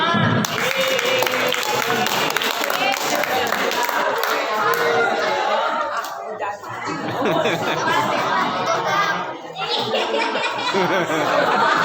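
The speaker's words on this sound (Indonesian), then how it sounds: "Oke, tepuk tangan." An audience claps in a mosque during a Ramadan fast-breaking sermon, a dense, loud round of applause mixed with lively chatter and laughter that dips briefly twice before swelling again.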